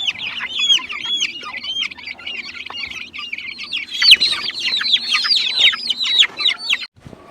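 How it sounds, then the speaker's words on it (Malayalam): Many chickens cluck and chatter continuously inside a box, close by and busy, their calls overlapping with a slightly boxed-in sound and no speech. "സുബിന്റെ കോഴികളെല്ലാം ഇങ്ങനെ കെട്ടി വെച്ചിരിക്കുകയാണ്"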